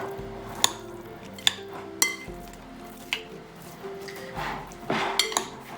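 A utensil mixes ingredients in a bowl for a crescent ring, with sharp clinks and taps against the dish at irregular intervals and soft scraping between them.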